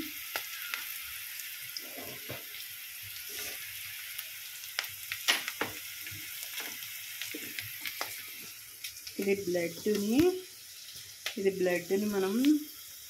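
Sizzling hiss of pieces of boiled, cut blood frying in a pan, a steady crackle held close throughout, with a voice talking briefly over it near the end.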